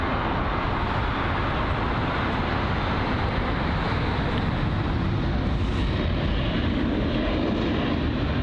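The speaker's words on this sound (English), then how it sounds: "It's the Austrian Airlines A320neo arriving at London Heathrow" Austrian Airlines Airbus A320neo arriving at London Heathrow on runway 27 right; a loud, constant jet engine roar fills the whole stretch with no break.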